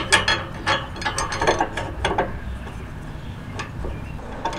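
A ratchet wrench loosens a nut on a boat trailer leaf spring, giving loud rapid clicking bursts up close for about two seconds, then fainter scattered clicks. No one speaks.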